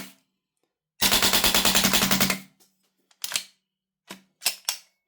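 Marksman IX AR9 airsoft gas blowback rifle on full auto, a loud rapid burst of about twelve shots lasting over a second, followed by a few scattered clicks and small bursts.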